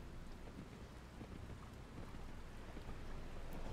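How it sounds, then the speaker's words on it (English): Steady rain pours in the video game Kingdom: New Lands, a dense, even hiss with soft patter that swells slightly louder toward the end, with no voices over it. "Oh shit, it's raining."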